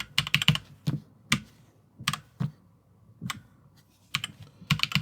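Keys clack on a Cooler Master CK721 65% gaming keyboard, in irregular bursts of close, crisp presses with brief pauses between clusters, no talk.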